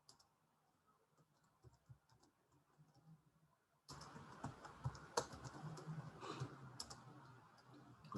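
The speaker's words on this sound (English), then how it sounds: "I'm slow typing stuff in, as you can see." Slow typing on a computer keyboard produces scattered faint clicks, then becomes a denser run of keystrokes over a louder background halfway through. The sound is close and quiet, with no talking.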